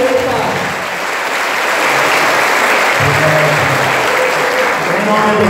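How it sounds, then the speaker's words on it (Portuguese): A church congregation at Mass applauds to welcome Padre Antônio Maria, sustained clapping filling a reverberant space with some voices and murmuring mixed in. "o Padre Antônio Maria, uma salva de palmas"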